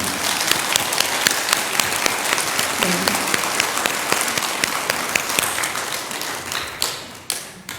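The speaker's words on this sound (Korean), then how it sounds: "여러분 박수 한번 주세요" Sustained applause from a congregation at a Buddhist Saturday dharma service, dense crackling claps filling the hall for several seconds before thinning out near the end.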